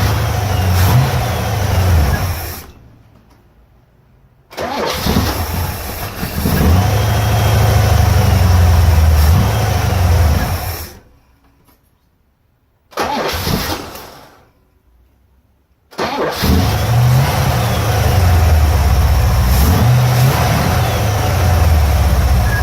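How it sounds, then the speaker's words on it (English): A cold vehicle engine with newly installed battery cables runs loudly, cuts out, then cranks briefly and fires back into a steady, rumbling run, with two clear breaks of near silence. "with the engine being cold, it didn't start up beautifully, but it turns over much better than it did with the old cables"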